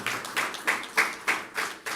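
A church congregation claps hands together in a brisk, uneven rhythm of about six bursts over two seconds, fairly close and with no talking.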